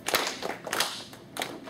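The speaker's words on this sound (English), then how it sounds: "I'm clapping the steady beat" Hands clap a rhythm in a classroom: a handful of soft, fairly close claps spaced unevenly over a couple of seconds, fading between strikes, with no talk over them.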